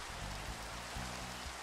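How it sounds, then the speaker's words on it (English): Rain falling at night in a video game, a dense, steady hiss of rainfall filling the short stretch with low rumbles underneath. "it's nighttime and raining?"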